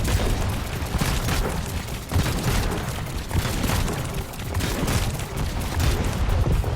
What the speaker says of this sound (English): That gets our belly cannon going as well.